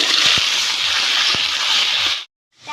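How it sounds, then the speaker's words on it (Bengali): Potatoes frying in hot oil in a pan for a Bengali dish, a loud, close, continuous sizzle that cuts off abruptly and then starts again. "আলু আমি ভেজে নেব।"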